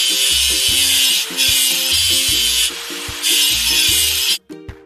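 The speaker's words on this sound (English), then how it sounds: "Let's get rid of the machine's rust." Rust is scrubbed off a toy construction machine in repeated, hissing rubbing strokes in a steady rhythm over a simple tune, ending with a few small knocks.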